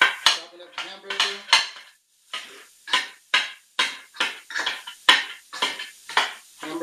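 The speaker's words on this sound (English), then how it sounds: "I'm just chopping it up. Chopping it up. See? Chopping up the hamburger." A metal utensil chops and scrapes hamburger meat in a pan on a countertop, giving a steady series of sharp clanks and scraping strokes, close and loud, with no talking.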